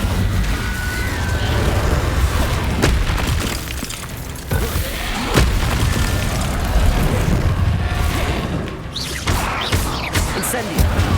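Repeated Incendio fire-spell blasts from Hogwarts Legacy gameplay thump and flare amid crashing, rumbling in-game combat effects, with several sharp bursts standing out against a steady, loud mix.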